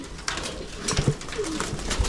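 Pigeons coo softly in a loft, low rolling calls repeating several times close by over a steady background hum.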